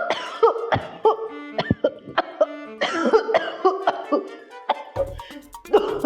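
A person coughs repeatedly in short, close bursts, with a brief throat-clearing sound and slight chuckles between the coughs, indoors in a dusty house.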